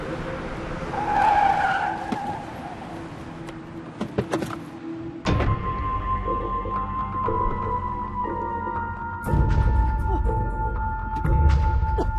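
A car on a road skids and squeals its tires while braking to a stop at the roadside, followed by door and window sounds and idling, with people talking inside.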